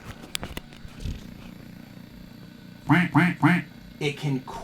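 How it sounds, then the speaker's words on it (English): A Macintosh SE/30 computer plays its quack alert sound, three quick nasal quacks in a row followed by two more, clear and fairly loud. Quiet clicks and room noise come before them. "It can quack. Look, it's quacking"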